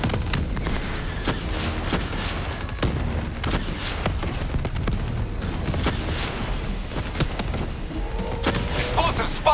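Dense, rapid gunfire fills Call of Duty Black Ops 3 campaign combat: overlapping automatic bursts and heavy booming impacts pound steadily and loudly throughout, with battle noise all around.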